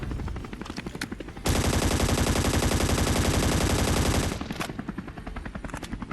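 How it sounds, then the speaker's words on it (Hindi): Sustained rapid automatic gunfire from the Scarfall 2.0 video game, loud and continuous for about three seconds, with scattered shots and game noise before and after. "यहाँ पर फाइनली कुछ ग्रेनेड वगैरह का साउंड आता, मतलब बंदे हैं यहाँ पर"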